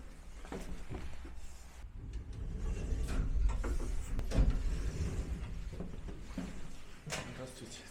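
An old elevator runs with a continuous low mechanical rumble and scattered clunks and rattles of its gears and mechanism. There is one louder knock partway through, and a person speaks over the machinery.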